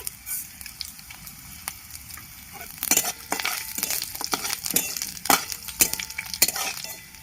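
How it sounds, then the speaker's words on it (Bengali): Garlic cloves and a pinch of black cumin dropped into hot oil, crackling and spitting close by in irregular bursts that grow busier and louder partway through. "তেলের মধ্যে রসুনের কোয়াগুলো দিয়ে দিচ্ছি একটু লাল করে ভেজে নেব"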